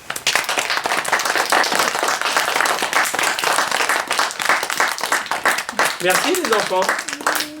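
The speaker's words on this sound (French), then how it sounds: "Est-ce qu'on applaudit le spectacle ?" Children applauding after a show, a burst of mixed clapping that is loud at first and thins out, with an adult voice speaking over the end.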